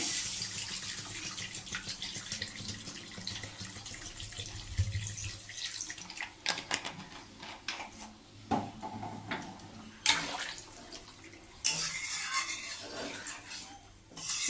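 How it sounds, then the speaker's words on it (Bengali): Water is poured into a pan of spiced katla fish curry on a home stove, giving a steady splashing pour that breaks into intermittent splashes and clinks toward the end. "এই জল দিয়ে দিলাম"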